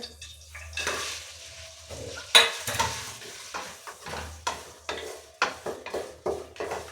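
Jaggery in desi ghee sizzling in a pan while a spoon scrapes and stirs repeatedly, metal clinks ringing out over a steady frying hiss, close and fairly loud.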